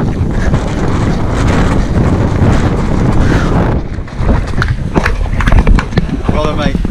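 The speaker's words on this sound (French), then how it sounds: "Il y avait du vent là aujourd'hui" Strong wind buffeting the microphone during a desert ultra-trail race, a loud continuous roar and rumble close up, with voices joining in toward the end.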